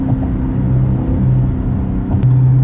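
A 2018 Dodge Charger Daytona 392 with its mid muffler deleted burbles at low RPM: a deep, throbbing exhaust rumble, loud and close, that swells slightly near the end.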